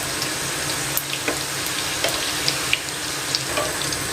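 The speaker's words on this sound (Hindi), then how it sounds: "रोल फ्राई करने का बेहतरीन तरीका जो है वो ये है कि आपने थोड़ी थोड़ी देर बाद इनकी साइडें पलटनी हैं।" Chicken mini rolls fry in hot oil, a loud dense crackling sizzle with small clicks as they are turned over in the pan, no voices.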